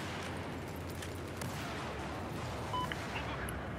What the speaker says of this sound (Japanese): めっちゃ爆発してんの。